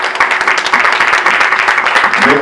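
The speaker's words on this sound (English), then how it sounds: "Let's give the panel a round of applause." An audience at a community mental health panel discussion applauds the panel, with dense, loud, close clapping from a small crowd sustained throughout and some voices mixed in underneath.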